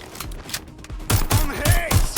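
Rapid bursts of gunfire in the Watch Dogs Legion video game, a few sporadic shots at first, then a loud, fast string of repeated shots with heavy low thumps, close and dense, with brief voices mixed in.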